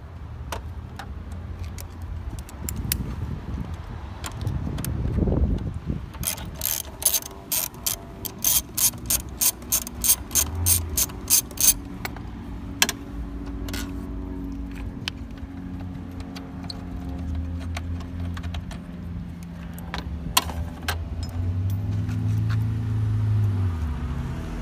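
A hand ratchet works a bolt loose on a 2014 Kia Optima SX Turbo, giving a quick run of sharp clicks close by, then quieter handling and a few stray ticks.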